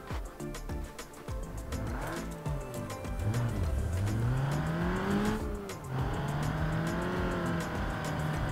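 A car engine in BeamNG.drive revs and accelerates through the gears, pitch climbing and dropping in sweeps with tire noise, loud and continuous throughout, with no talking.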